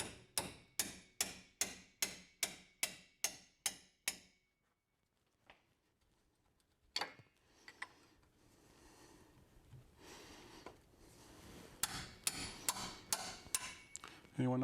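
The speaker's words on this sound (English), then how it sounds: "put a wrench on there, loosen them up with a hammer." Hammer blows ring out on a 2001 Chevrolet Suburban's tie rod as it is knocked loose: about ten sharp, evenly spaced metallic strikes, a pause, then a scattered burst of further rapid hits, close and loud.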